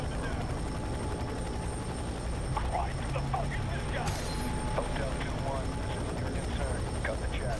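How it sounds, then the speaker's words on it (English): Steady loud rotor roar of a helicopter in the game F.E.A.R. 3 fills the whole stretch, with faint clicks and bursts scattered over it. "Helicopter is super loud."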